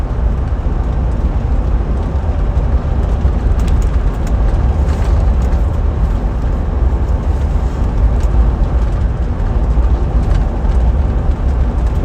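A 2000 Range Rover P38 Holland and Holland drives along a road, giving a steady loud engine drone mixed with road and tyre roar that holds constant throughout with no talking.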